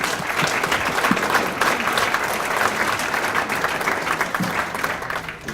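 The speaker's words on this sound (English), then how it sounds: "how about a round of applause for starting us off here from our presenters" Meeting audience giving presenters a round of applause, a steady wash of many hands clapping at moderate volume in a room, sustained throughout and tapering slightly at the end.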